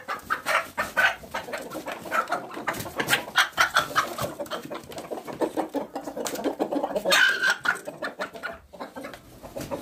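Hens clucking and squawking in a Kazakh backyard coop after a morning feed, a dense, continuous jumble of birds calling close by for the full stretch, with no talk over it.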